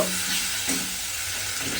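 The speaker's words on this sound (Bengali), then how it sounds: "এবারে আমি এটাকে আবারও একটু কষে নেব" Masala with a little sugar stirred and fried in oil for an egg dhoka curry, giving a close, steady sizzling hiss with a brief scrape of stirring partway through and no voices.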